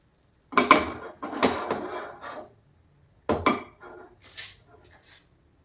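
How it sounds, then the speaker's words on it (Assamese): Batter for patishapta pitha is poured and spread in a pan, making close scraping, rubbing strokes in two bursts separated by a short pause, with faint light clinks trailing off. "এতিয়া বেটাৰটো দি দিম। আৰু এনেকৈ লৰাই দিব,"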